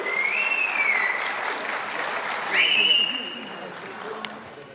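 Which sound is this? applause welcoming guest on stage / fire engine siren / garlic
applause welcoming guest on stage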